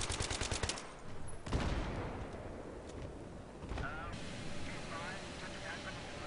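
Battlefield 3 game combat near an F-35 launched from an aircraft carrier, with rapid bursts of automatic gunfire, sharp blasts and jet roar, mixed with speech.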